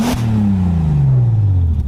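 A Bentley GT Speed Convertible's W12 engine, 616 horsepower, blips loudly up and then drops away in pitch, one sweeping rev with a strong, close, throaty drone and no talking.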